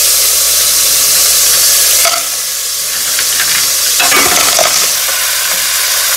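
Clams sizzling loudly in a hot frying pan with garlic, with bursts of stirring and clattering as they are tossed; close and continuous, with no talking.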